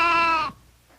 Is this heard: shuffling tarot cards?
no